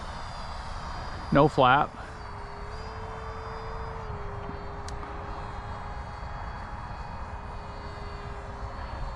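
E-flite Viper 64mm electric ducted-fan RC jet taking off, a steady whooshing fan hum with a faint tonal whine, continuous and moderately loud, briefly under a short spoken phrase near the start.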